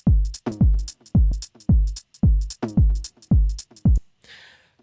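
An electronic drum beat with kick, snare and hi-hat plays in a steady loop, the hi-hat swung by an SP1200 16-step swing 67 groove, loud and alone before a brief fading noise at the end.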